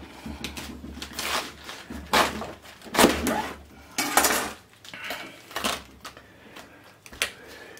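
A knife cuts through a cabbage on a board for homemade choucroute, making repeated crunchy chops and thuds at uneven intervals, loud and close, with no talking.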